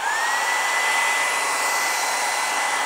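A hair dryer running on high, powered by a Bluetti AC200Max portable power station at a campsite, gives a steady, loud, continuous whoosh with a faint rising whine, unbroken and with no talk.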